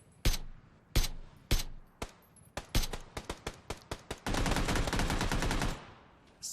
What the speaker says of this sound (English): we just heard the silencer. That was an AR silencer about 100 meters out